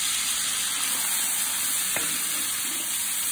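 Meat frying in a hot seasoned pan for a Creole pastalaya, a faint steady sizzle and hiss with a brief stirring scrape.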